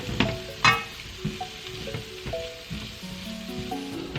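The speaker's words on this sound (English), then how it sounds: "go ahead and go in and add your garlic and give it a good mix" Chopped garlic sizzles in a pan of softened onion as it is stirred for birria, with steady frying crackle broken by a few sharp utensil clinks and scrapes against the pan.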